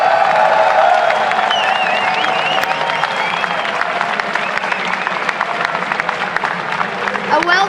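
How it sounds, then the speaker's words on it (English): A large crowd applauds and cheers continuously, with whoops rising over steady clapping, loud and sustained throughout, at Gamescom 2013 as Fnatic are introduced as European LCS Summer Split champions. "A well-deserved applause here for you guys."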